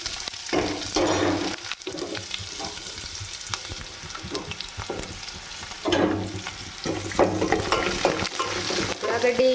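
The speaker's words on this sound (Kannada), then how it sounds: "ಉಳ್ಳಾಗಡ್ಡಿನ ನೀಟಾಗಿ ಫ್ರೈ ಮಾಡ್ಕೋಬೇಕು ಅದಕ್ಕೆ" Sliced onions fry in a pan, a steady crackling sizzle broken by repeated scraping stirs of a spatula, close and fairly loud with no talking.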